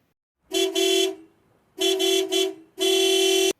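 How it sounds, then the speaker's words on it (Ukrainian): A car horn honks in three bursts, the first two doubled and the last a long steady blast, loud and close with silence between. "А коли ви почуєте, як сигналить автомобіль"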